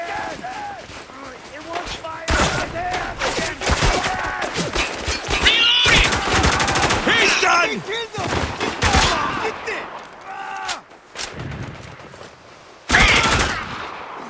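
Heavy bursts of .50 cal turret machine gun fire in the Xbox 360 shooter Spec Ops: The Line, loud rapid volleys in repeated clusters with impacts and crashes, mixed with shouted voices between salvos.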